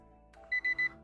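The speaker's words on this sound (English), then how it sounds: "You'll hear beeping. That'll be me taking the actual reading of the temperature in here." A digital thermometer beeps three times in quick, even succession while taking a room temperature reading, a clear, moderately loud electronic tone against quiet indoor background.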